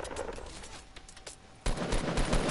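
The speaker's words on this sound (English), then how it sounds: "Ooh, gunshots, gunshots, gunshots" Rapid gunshots in a video game, a lighter burst of shots followed by a louder, denser volley of automatic fire.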